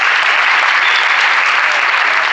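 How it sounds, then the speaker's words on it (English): Audience applause at a Samsung Unpacked product launch in Berlin, a dense, steady wash of clapping from a large crowd, loud and continuous for the whole stretch with no voices breaking through. "Let's give a round of applause to Arik and Mark and the rest of our guests."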